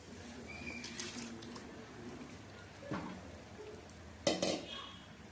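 Marinated chicken (mixed with chili, salt and garam masala) tipped into a pan for curry and stirred, with quiet scraping and clatter of a spoon against the pan and a sharper clank near the end.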